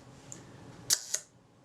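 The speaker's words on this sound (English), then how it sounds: "and the shutter fires" Synchro Compur leaf shutter on a Voss Diax camera fires: a crisp double metallic click, close and clear over a quiet room, preceded by a faint tick.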